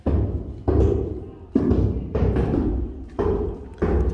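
Roofers on a neighbouring house in a Florida new construction neighbourhood hammer away, heavy thuds landing at irregular intervals a short distance off, with speech mixed in.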